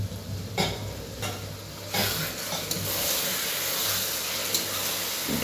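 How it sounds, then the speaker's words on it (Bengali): Tomatoes sizzle steadily in a frying pan as a metal spatula mashes and scrapes them in a few distinct strokes, with no talking. "টমেটোগুলো ভালো করে সেদ্ধ হয়ে যাক, পেস্ট করে নেবো খন্তি দিয়ে"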